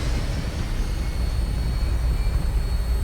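Aircraft takeoff in Fallout 4: a dense, loud, steady engine roar and rumble, heavy in the low end, with a faint high whine above it and no talking.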